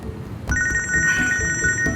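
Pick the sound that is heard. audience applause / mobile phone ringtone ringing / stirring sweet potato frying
mobile phone ringtone ringing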